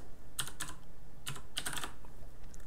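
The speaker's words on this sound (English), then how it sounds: "So we're just going to type this bundle." Keystrokes on a computer keyboard come in two short bursts of rapid clicks separated by a pause, close and crisp over a steady background hiss.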